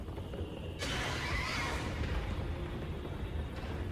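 A horse neighs inside the horror game Mouthwashing. The whinny starts abruptly, is loud and sustained, and sits over a dense background rumble.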